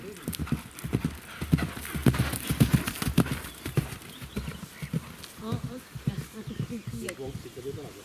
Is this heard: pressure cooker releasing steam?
no